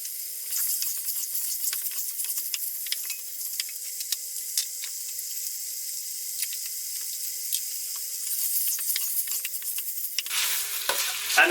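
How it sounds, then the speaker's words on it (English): Ox cheek meat sizzles in a pan of curry spice mixture made with Chief Brand curry powder, a steady bright hiss with scattered scraping stirs throughout and a brief clatter near the end. "So all the meat goes in and get that stirring in all that lovely spice mixture"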